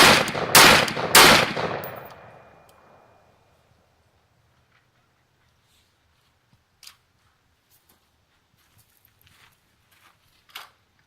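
An unsuppressed BCM 11.5-inch short-barrel rifle fires M193 55-grain 5.56 NATO rounds: two sharp, loud cracks close together with a ringing, decaying tail, then near silence with a few faint clicks.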